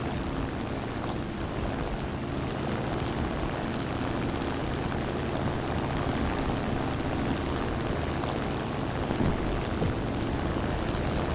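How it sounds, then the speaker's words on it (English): Several planes fly overhead in a Russian 3.7 GRB match of the combat game on the Seversk-13 map, a steady droning engine roar under continuous battle noise, with no talk. "there's so many planes in the air"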